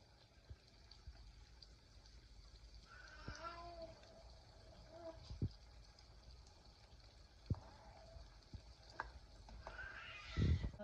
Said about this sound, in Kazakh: Бауырымызды 10-15 минут қуырып алдық.